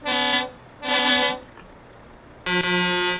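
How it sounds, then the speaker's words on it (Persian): Second horn fitted to a sport-modified Renault car: three close, loud, bright blasts, two short ones in quick succession, then a pause and a longer final toot, with nothing else heard in between. "بوق دوم"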